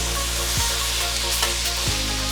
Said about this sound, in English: The heavy cream is thickening up over there in the frying pan or the skillet.